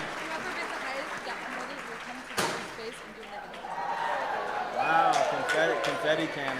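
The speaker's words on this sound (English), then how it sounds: "Let's give them a nice round of applause." An audience at a charity auction applauds, the clapping swelling and fading alongside an announcer's voice and other talk.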